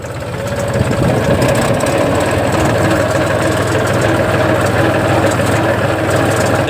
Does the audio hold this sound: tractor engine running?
yes